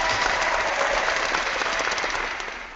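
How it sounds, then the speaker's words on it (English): Audience at a church-themed talk about Jehovah's Witnesses breaks into brief applause, a dense wash of clapping that holds steady and begins to fade near the end, with no voices over it. "Now, I think I deserve a round of applause."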